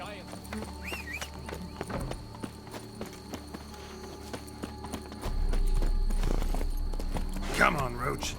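The horse Roach clip-clops along at a steady walking pace in The Witcher 3, close and clear, with a game character speaking over the hooves partway through and a low rumble coming in later.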